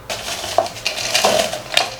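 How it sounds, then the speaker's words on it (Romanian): Butter biscuits snapped by hand into a small kitchen mixer bowl, giving a few sharp crunches and clinks against the container, close and fairly loud, with no talking. "am să iau și am să-i rup pentru început în acest mixer mititel"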